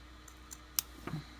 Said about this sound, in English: I think I'm gonna have to get my scissors sharpened because these are a little too hard to use here.